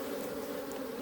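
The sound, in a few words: honey bees buzzing at hive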